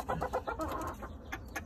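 Young roosters and hens being handled and dosed with vitamins cluck in short, close bursts, a quick run of soft calls followed by a few scattered clucks against faint background rustling.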